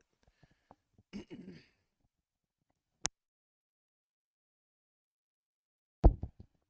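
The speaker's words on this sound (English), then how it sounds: "Excuse me, I had to clear my throat." A person clears their throat in a short, rough burst near the end, after a quiet stretch with a few faint clicks and a brief murmur.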